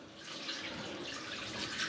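Water flushes steadily through domestic heating system pipework during a mains water flush, with dirt being pushed out as flow and return are switched; a continuous broadband rushing hiss with no talk.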